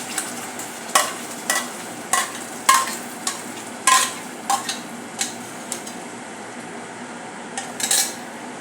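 A spoon scrapes and knocks against a pan as momo vegetable filling is mixed with chutney, about a dozen sharp clinks in an uneven rhythm, close and clear with no talking.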